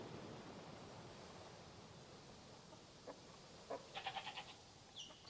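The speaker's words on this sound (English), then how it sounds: "Sounds a little more like a goat." A few short, faint bleats of a goat in the video game SCUM sound in quick succession near the end, over a steady hiss of background noise.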